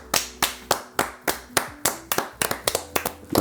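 A small audience claps by hand, about fifteen sharp, loud, close claps, evenly spaced at first and then quicker and uneven near the end, with no talking over them.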